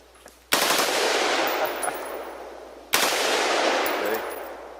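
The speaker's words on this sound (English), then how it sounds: "So let's put it on full auto." A military-style rifle fires on full automatic in two long sustained bursts of rapid, loud gunfire, each cutting in sharply and rolling on for a couple of seconds, with a short pause between them.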